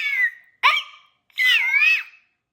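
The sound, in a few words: child imitating a lion cub's roar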